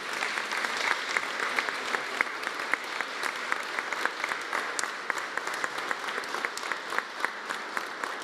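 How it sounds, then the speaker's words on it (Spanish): A large crowd at a Teachers' Day celebration applauds award-winning teachers, producing continuous, even clapping with sharp individual claps standing out, loud throughout. "El reconocimiento de nuestro aplauso para todos los maestros galardonados"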